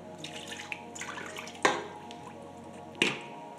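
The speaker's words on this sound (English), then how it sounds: "And then we're gonna add in 6 ounces of water." Water is poured into a stand mixer bowl while preparing challah dough, a steady splashing stream with a few sharper drip and clatter sounds, close and without talk.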